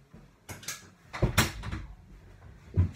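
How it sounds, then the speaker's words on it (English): A door is shut indoors with a few close thuds and rattles, including a sharper knock near the middle and another dull bump at the end, no speech. "Shut my door."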